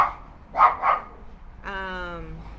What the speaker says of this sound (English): Ignore the barking.